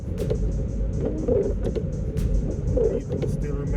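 A car drives along a road on the way to work, a steady low engine and road rumble filling the cabin throughout.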